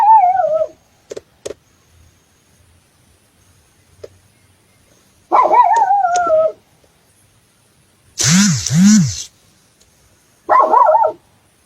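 A dog gives whining howls and yelps in separate bursts at night in the wilderness during a camping trip, with a louder barking pair in the middle and quiet gaps between, fairly close.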